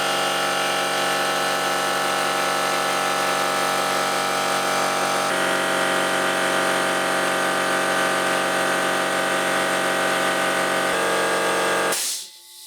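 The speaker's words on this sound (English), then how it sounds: "I'll now just switch this compressor on and you can see the actual noise difference between the two" A Dewalt DPC10QTC-GB air compressor drones loudly and continuously, a steady mechanical roar that shifts pitch slightly partway through before cutting off abruptly.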